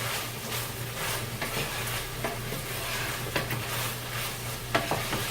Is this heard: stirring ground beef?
yes